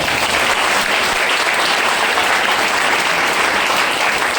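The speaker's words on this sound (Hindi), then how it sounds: "ताली जोरदार हो जाए" Loud, dense applause from a meeting audience fills the whole stretch, steady and continuous with no voices breaking through.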